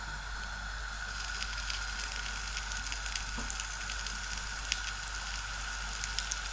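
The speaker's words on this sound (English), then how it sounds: "we're going to put them in a frying pan, and we just need to fry these off all sides" Pork faggot meat patties frying in a frying pan, a steady continuous sizzle with scattered crackles and pops, close and even throughout with no talking.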